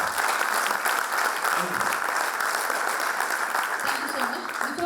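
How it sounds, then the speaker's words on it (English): A seminar audience gives the speakers at a GST valuation session a big round of applause, sustained dense clapping that stays steady and loud for several seconds, with some voices underneath. "we all would be failing in our duty if we don't applaud them with a huge round"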